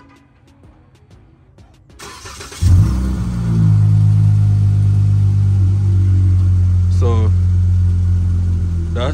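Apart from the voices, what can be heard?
car engine with Vibrant bottle-style resonator starting and revving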